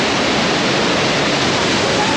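Steady, dense roar of Iguazu Falls, a broad wall of rushing water that is loud and continuous with no break, heard from close by on the walkway near the falls.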